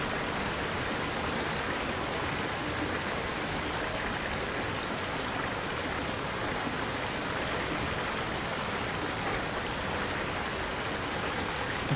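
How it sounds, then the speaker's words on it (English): Steady rushing water noise in the underwater video game SOMA, a dense, even hiss like heavy rain or a stream that holds constant and loud throughout without breaks. "There's a lot of water noise"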